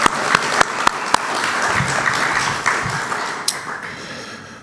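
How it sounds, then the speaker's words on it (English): Audience applause at a candidates' forum in a community hall, a steady wash of clapping with a few sharp individual claps standing out, lasting throughout and fairly loud, with no talking over it. "Let's give them all a round of applause again,"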